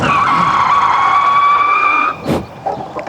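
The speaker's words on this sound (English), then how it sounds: "We could try brake test now. We'll start all the way back here. Full power, full throttle. And brake." Tires squeal hard in a loud, sustained high-pitched skid for about two seconds as an Ariel Rider X-Class 60V electric scooter brakes hard, then a short thump and some quieter rumbling.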